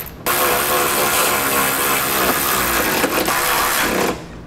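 An 11/16 socket on a power tool drives trailer hitch bolts tight on a 2013 Volvo XC70, giving a loud, steady mechanical whir and rattle that runs for about four seconds, then stops abruptly.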